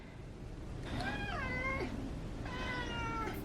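A cat meows twice close by, two drawn-out, wavering calls separated by a short pause over quiet background noise.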